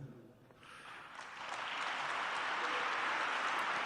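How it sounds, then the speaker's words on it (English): Applause swells from a quiet start into steady, dense clapping from a large audience that holds to the end. "he's getting them to clap for that"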